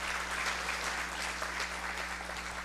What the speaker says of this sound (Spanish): Recibamos con un aplauso a nuestra invitada de Canadá, Litsi Baeza.